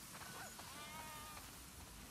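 Sheep bleating inside a farm barn in a game, a few quavering calls from a flock heard faintly over a steady hiss of background noise.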